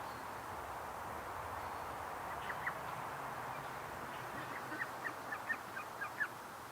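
Ducks call in a series of short honks and quacks, mostly in the second half, over a steady outdoor background hiss; the calls are moderately close and fairly quiet.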